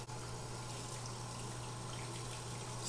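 Water running from a tap over glass pipes being rinsed, a steady close hiss of flowing water that continues evenly throughout with no voices.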